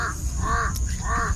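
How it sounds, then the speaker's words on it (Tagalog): Crows caw overhead in two harsh, nasal calls under a steady background rumble. "May uwak Renz."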